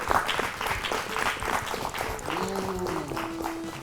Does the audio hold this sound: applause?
yes